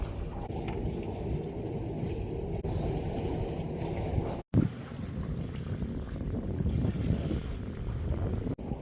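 A sailboat under sail in perfect conditions, with steady wind rushing across the microphone and low rumbling from the hull and water, constant and close, broken by a brief dropout partway through.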